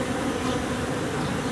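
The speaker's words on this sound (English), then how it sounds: "there's a lot of bees coming and going on the 8 frame" Many bees buzz steadily around a busy eight-frame beehive, with workers coming and going; a dense, continuous, close hum with no speech.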